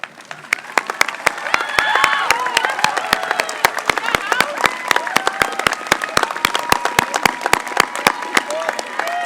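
An audience at the Whittier College commencement applauds the faculty, a dense, steady round of many hands clapping close by, with crowd voices and cheers mixed in.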